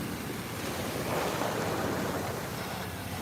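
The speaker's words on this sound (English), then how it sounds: "Let the waves take you out to sea." Ocean surf rolling onto the beach at Fort Lauderdale, Florida, a steady broadband rush of breaking waves with wind buffeting the microphone, fairly close and continuous with no voices.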